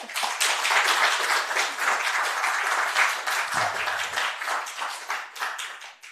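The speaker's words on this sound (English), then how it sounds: "first of all, ladies and gentlemen, a round of applause." A seminar audience applauds, with dense, sustained clapping from many hands that fills the room and slowly thins toward the end.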